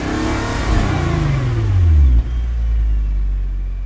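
Engine of a 2024 Nissan GT-R T-Spec in the Gran Turismo racing game, loud and close, revving with a falling pitch sweep, a sudden shift about two seconds in, then settling into a steady low drone.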